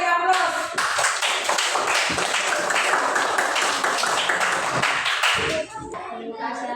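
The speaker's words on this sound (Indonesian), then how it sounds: "Kita beri aplaus." A classroom full of students claps together after a group presentation, dense, lively applause that swells quickly, holds for several seconds, then tapers off as a voice speaks.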